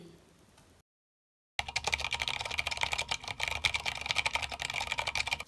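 Rapid typing on an ANT Esports MK1000 mechanical gaming keyboard: dense, close clacking keystrokes in a fast irregular rhythm, starting after a brief silent gap and continuing without talk.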